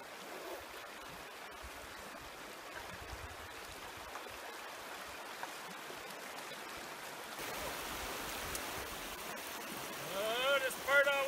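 The Alexandra River in Banff National Park flowing over rocks in near-freezing water, a steady close rushing wash that grows slightly louder as someone wades through, with a person's voice faintly mixed in.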